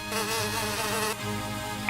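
Grasshopper creature in the video game BIONICLE Maze of Shadows, a loud continuous buzzing drone with a change in tone partway through, alone and close.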